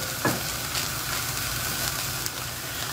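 Spices such as curry and turmeric being stirred and roasted in a pan without oil, a continuous dense dry sizzle with faint scraping, steady and close throughout.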